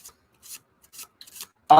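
Short papery rubbing bursts come in several quick bursts with pauses between, as thick tarot cards are slid and shuffled, ending with a louder bump.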